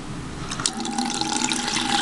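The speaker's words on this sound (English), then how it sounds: "There's the new water flow on cold." Cold water runs steadily from a faucet fitted with a new aerator, a close, even hiss and splash into the sink with no talking.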